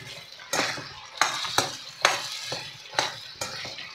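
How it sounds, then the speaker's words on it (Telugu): Eggplant and onions frying in oil for a masala curry, with a steady sizzle broken by several sharp scrapes and clinks of a spoon stirring against the pan, close and fairly loud, no talking. "ఇవి బాగా ఫ్రై కానివ్వాలి ఆయిల్లో."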